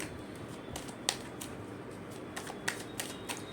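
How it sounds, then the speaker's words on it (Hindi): A tarot card is drawn from a deck, making quiet, sparse papery flicks and soft clicks against a hushed background. "एक कार्ड और ले लेती हूँ।"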